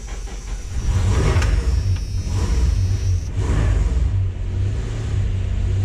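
A Dodge Ram 1500 engine with a choke problem revs under held throttle, a loud, steady low rumble close by that surges a little early on and then holds roughly even.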